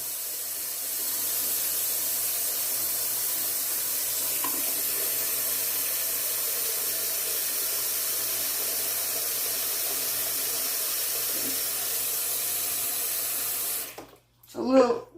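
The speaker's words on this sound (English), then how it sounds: "And I got to put cold water in it." Cold tap water pours steadily into a pot holding bottles, set up for homemade Tabasco sauce. The rush runs loud and unbroken for about fourteen seconds, then cuts off and ends with a brief clatter.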